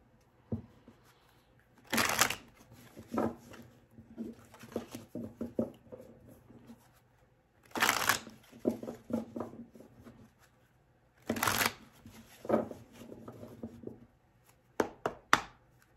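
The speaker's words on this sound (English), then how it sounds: "I'm gonna do 3 more shuffles." Tarot cards shuffled by hand, coming in several bursts of quick riffling flutter separated by softer handling taps and shuffles, close and fairly quiet, with no talking.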